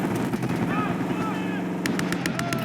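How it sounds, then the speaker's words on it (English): Gunfire in the video game Call of Duty: Black Ops 6, with a burst of sharp, rapid shots near the end over a rumbling vehicle-like background, while voices talk throughout. "We've got gunfire to the right."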